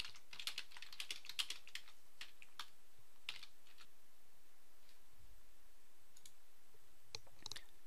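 Quiet, uneven bursts of keyboard typing, a flurry of clicking keystrokes followed by scattered taps with short pauses.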